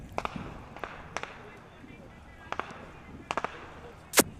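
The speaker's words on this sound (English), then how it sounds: "Then you may hear the fireworks going off in the background" Fourth of July fireworks popping in the distance behind a cricket match, with scattered sharp cracks in small clusters and a louder bang at the end.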